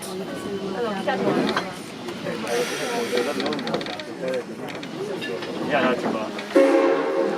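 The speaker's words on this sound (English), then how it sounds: "until we come to a stop and the engineers blow the whistle" A steam locomotive whistle on the Yosemite Sugar Pine logging railroad sounds near the end, a steady hooting tone, as the train stops while people talk over a hissing, rumbling railway background.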